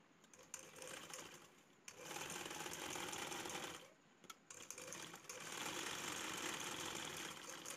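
A sewing machine runs steadily while stitching handbag fabric for a homemade purse, its fast rhythmic whirr and needle chatter close and continuous, briefly pausing twice before resuming.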